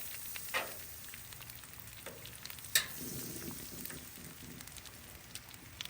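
Butter melts and sizzles on a Loco griddle before hash browns go on, a steady, close frying hiss broken by a couple of sharp pops and light scraping.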